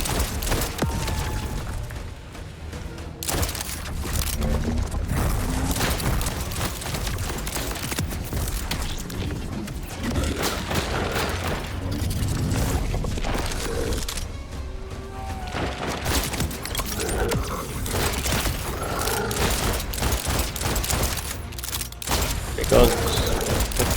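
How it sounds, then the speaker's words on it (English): Rapid pistol shots crack again and again through a boss fight in Borderlands 4, with booms and mechanical clatter layered in, loud and dense across the whole stretch. "Because with pistol, you have very high fire rate."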